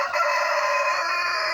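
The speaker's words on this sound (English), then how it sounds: "And she just crows right by him." A hen crows like a rooster in a farmyard, giving one loud, close, sustained crow with no other sound around it.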